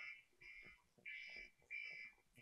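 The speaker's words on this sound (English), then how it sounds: "I hear an alarm." Electronic alarm in a college event room, faint repeated high beeping tones pulsing in short bursts from somewhere in the distance.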